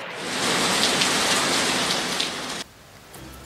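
A torrential monsoon downpour in Sindh's Dadu and Kachhi region roars as a dense, steady hiss of heavy rain, loud and continuous before dropping suddenly to a quieter patter near the end.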